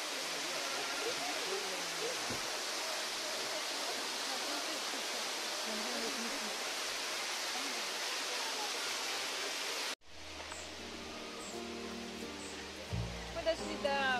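A small waterfall in Gabala pours in a steady, dense rush of splashing water for about ten seconds before the sound cuts to a quieter, different scene.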